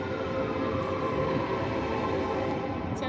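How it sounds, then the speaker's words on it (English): A siren wails steadily alongside the rumble of a passing train, both sustained and fairly loud throughout, with a constant dense drone filling the whole stretch. "Sounds like a fire truck. And a train."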